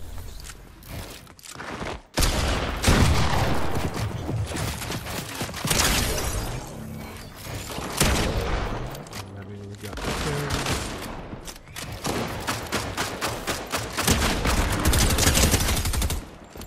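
Pistol gunfire in the video game Fortnite: repeated loud shots in rapid, uneven bursts with a brief pause, over busy game noise and some talking.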